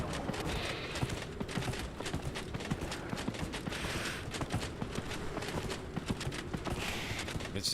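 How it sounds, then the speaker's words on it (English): A horse's hooves clip-clop at a steady walking pace in Dragon Age: Inquisition, rhythmic and moderately close over a quiet game backdrop, with no speech. "I do love how you can just ride your horse off a massive cliff in this game"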